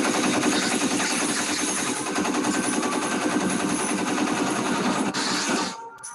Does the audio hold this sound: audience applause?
no